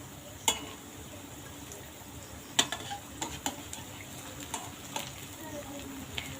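Jackfruit seed fritters fry quietly in a pan over medium-low heat, a soft steady sizzle broken by a few sharp clicks and taps of a utensil against the pan.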